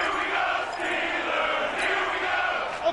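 A stadium crowd roars and cheers steadily in a PS4 American football video game, building before a big third down, with a broad continuous wash of voices.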